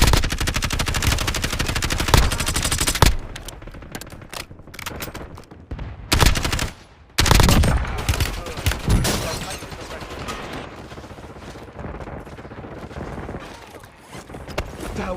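Rapid bursts of automatic gunfire in a first-person shooter video game, with heavy sustained volleys, short pauses and scattered single shots mixed with mechanical clicks and occasional game voice callouts.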